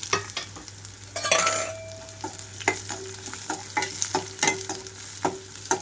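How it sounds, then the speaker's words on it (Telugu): Chopped onions frying in oil with tempering seeds and dried red chillies: a soft constant sizzle under repeated close scrapes and clinks of a spatula stirring the pan. "ఇక్కడ నేను కొంచెంగా కట్ చేసి పెట్టుకున్న ఉల్లిపాయలు"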